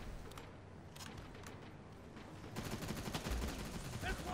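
Gunfire in the shooter game Terminator: Resistance, with rapid bursts of shots at low level that grow denser and louder midway, set against game background noise.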